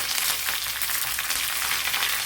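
Dried red chillies and curry leaves sizzle in hot oil as a tempering for a Kerala sardine curry, a loud, dense, unbroken hiss and crackle with no voices.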